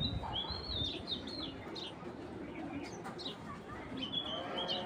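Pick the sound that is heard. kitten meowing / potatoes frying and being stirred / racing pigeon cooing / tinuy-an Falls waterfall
racing pigeon cooing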